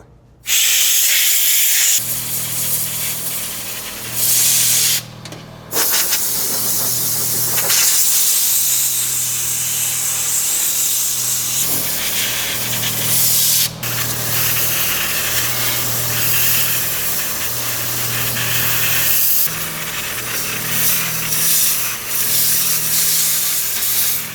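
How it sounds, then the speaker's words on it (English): Compressed air blasts through the radiator of a Volvo 240 with the fan and shroud removed, a loud, sustained hiss broken by a few short pauses, no speech. "we've done a lot of blowing out of the radiator"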